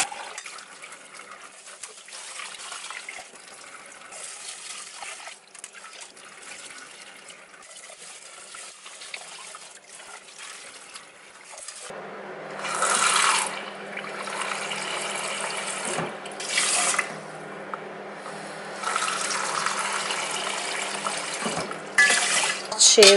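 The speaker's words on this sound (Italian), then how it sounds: "di solito io lo lavo 6 volte, 5-6 volte per levare l'amido" Rice is washed in water to remove starch: faint background sounds give way to louder sloshing and running water in bursts, close by, with quieter rattling between them.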